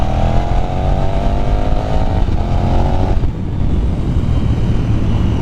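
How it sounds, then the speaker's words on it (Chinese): KTM 1290 Super Duke R motorcycle engine held at high revs above about 5000 rpm, a loud steady roar with a rising whine and a brief dip midway, recorded close up while riding on a mountain road. "可是转速拉上来之后呢，大概过了5000转之后，"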